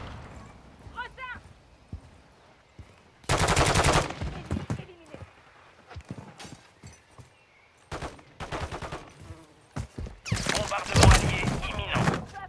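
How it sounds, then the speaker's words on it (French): A stun grenade is thrown in a Call of Duty MW3 multiplayer match, among bursts of automatic gunfire, sharp blasts and thuds in quick succession, with a player talking between the shots. "Je lance une grenade paralysante!"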